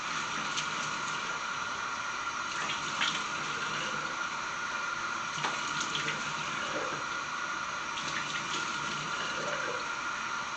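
A bathroom tap runs continuously into a sink while someone splashes water on their face before shaving, a steady close hiss with a few faint splashes and drips, and no one speaking.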